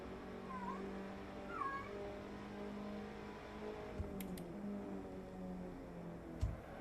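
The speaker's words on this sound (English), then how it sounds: "Ignore the cats meowing behind me." Cats meow behind a sim-racing setup, a few short nearby cries over a steady low engine hum from the game, with a couple of faint clicks.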